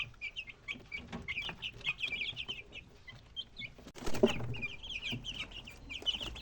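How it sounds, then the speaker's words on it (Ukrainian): Ten-day-old broiler chicks peep constantly inside a brooder, giving dense, high chirps close by with scattered rustling and one louder flutter of movement midway. "Це наші бройлери. Їм вже сьогодні 10 днів."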